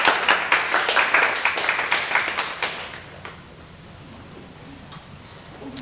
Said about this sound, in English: so you should give them a round of applause as well